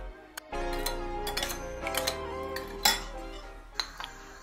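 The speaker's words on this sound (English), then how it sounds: "and then you want to give it a really good mix." A utensil clinks and scrapes against a bowl as sweet and sour sauce with pineapple is stirred, with scattered sharp taps and clatters over a steady low hum.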